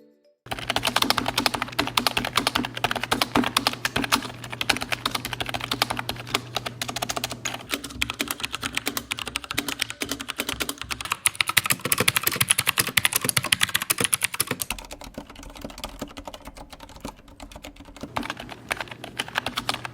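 Rapid, continuous typing clatters on a Xinmeng membrane keyboard built in a retro typewriter style, with dense close-up key taps that pause briefly and then resume.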